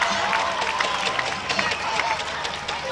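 Youth baseball crowd at the Cal Ripken World Series, Winchester vs Coosa, cheers after a two-run double: a steady, lively roar of voices with scattered claps, heard under talk.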